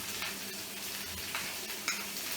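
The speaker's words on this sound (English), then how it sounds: "Melissa's been colouring off the sausages in the pan" Sausages browning in hot oil in a frying pan give a low, even sizzle with a few faint pops, continuous and quiet, with no voices.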